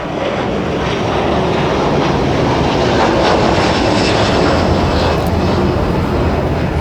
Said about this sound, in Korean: 공항에선 웬만한 버스보다 더 자주 중국으로 가는 비행기가 뜹니다.